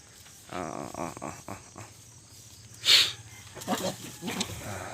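A goat bleats once, loud and near, amid a rustling outdoor farm background with some low murmuring and scattered movement sounds.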